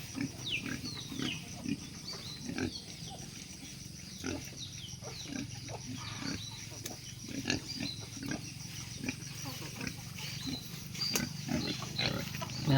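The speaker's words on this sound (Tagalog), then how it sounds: "May pala ako guys, may alaga akong baboy ramo." A pet wild boar kept on a small farm grunts repeatedly in low, rough snorts scattered throughout, close by, over a steady background hum and some faint bird-like calls.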